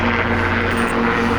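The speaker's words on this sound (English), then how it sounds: "airplanes are taking off." Airplanes taking off near an amateur radio antenna installation, heard as a steady, fairly loud droning engine roar with a constant hum throughout, no talking.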